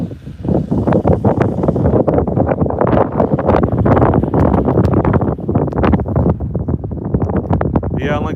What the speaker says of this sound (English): Dang, it's windy.